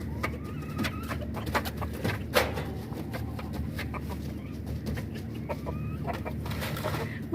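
A Brahma rooster and hens cluck and coo steadily inside a cage, with overlapping calls close by and the rustle of the birds moving, and no talking.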